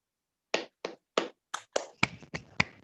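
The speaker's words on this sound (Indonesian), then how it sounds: "Tepuk semangat." Eight sharp hand claps in a quickening rhythm for a 'tepuk semangat' cheer, dry and close, with the last few coming faster and overlapping slightly.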